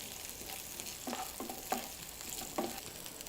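Biryani ingredients are sautéed with a little salt in a pan, a steady low sizzle with a few scraping stir strokes, close and fairly quiet, with no talk.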